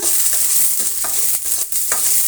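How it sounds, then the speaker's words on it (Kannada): Onion and curry leaves fry in a pan for carrot palya, giving a steady, close sizzle with a few stirring scrapes. "ಈರುಳ್ಳಿ ಸ್ವಲ್ಪ ಬಾಡಿಸೋಣ ಅದರ ಜೊತೆಗೆ ಕರಿಬೇವಿನ ಸೊಪ್ಪನ್ನು ಸ್ವಲ್ಪ ಸೇರಿಸ್ತಾ ಇದ್ದೀನಿ ಈಗ ಇವೆರಡನ್ನ ನಾವು ಫ್ರೈ ಮಾಡೋಣ"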